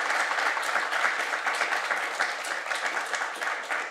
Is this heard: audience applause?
yes